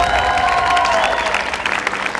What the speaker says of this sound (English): give yourselves a round of applause for being here